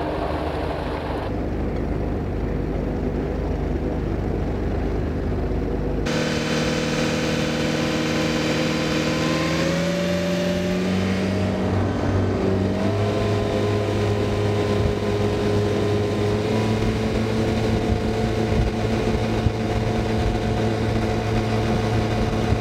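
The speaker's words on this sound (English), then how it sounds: "already you can hear that's a nice smooth running V8 diesel" A COX 300hp V8 diesel outboard runs on a boat, a loud steady engine drone whose pitch climbs and shifts partway through as it picks up speed, with a continuous hum and no voices.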